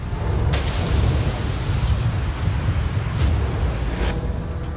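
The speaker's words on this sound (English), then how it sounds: "A vapor cloud explosion occurred almost immediately." A vapor cloud explosion at the Buncefield fuel storage depot in the UK comes through as a loud, sustained low rumbling roar, broken by a few sharper bursts, with no voices.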